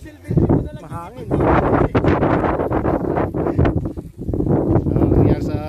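Gusty wind buffets the microphone in heavy rumbling bursts at a hot beach, with people talking faintly underneath.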